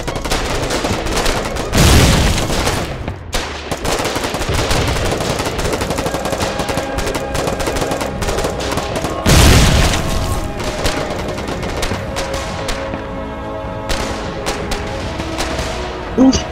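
Sustained gunfire at a gun nest in a massive battle in the video game Foxhole: loud continuous machine-gun bursts and rifle shots, with two heavy booming blasts standing out over the din.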